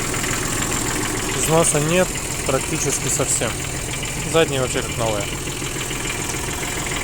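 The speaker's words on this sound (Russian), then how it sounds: "Вполне заметно, что трактор работает достаточно ровно, хорошо, тихо" Japanese mini tractor with hydraulic tilt and float mode, 836 engine hours, idling steadily and quietly at a constant low rumble beneath someone speaking up close.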